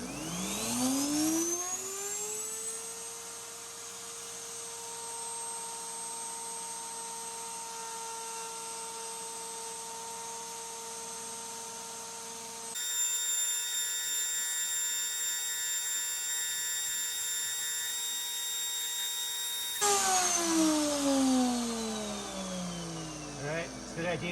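Router spinning up and cutting figured veneer on a drum shell, a steady high whine that changes pitch partway through and then winds down at the end, with brief talk.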